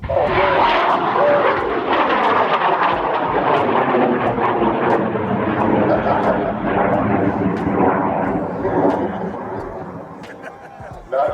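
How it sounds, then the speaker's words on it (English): A 180-pound high power rocket motor roars loudly and continuously through its takeoff, a dense broadband rush that holds steady before thinning toward the end, with faint crowd chatter underneath. "Not bad takeoff for a 180-pound rocket."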